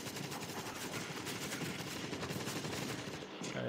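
Gunfire in the zombie shooter World War Z, a rapid, sustained rattle of automatic shots mixed with scattered single cracks, fairly distant and continuous throughout.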